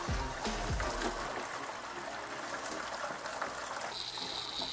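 Water runs steadily through a siphon hose used to clean aquarium rock, a continuous close trickling and gushing flow with no talking.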